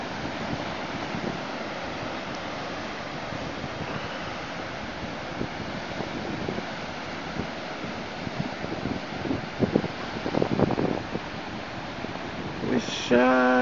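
Ocean waves at Bodega Head on a windy day roll in with a constant roar of surf and gusting wind buffeting the microphone, swelling louder near the end.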